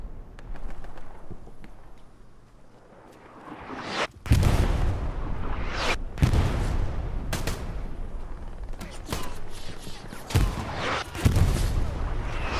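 Artillery in the World War II shooter game Hell Let Loose pounds repeatedly: several heavy booms and sharp blasts with long rumbling tails, loud and close, spaced irregularly over a continuous background din.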